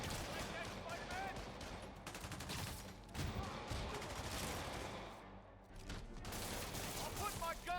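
Gunfire from mobsters in the Marvel's Spider-Man video game, dense bursts of rapid shots and fusillades running continuously through the clip, mixed with game sound effects and voices.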